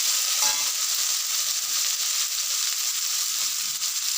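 Eggplant pieces fry in hot oil in a pan for red amaranth chorchori. A loud, steady, close sizzle continues without a break, with a faint stirring scrape near the start.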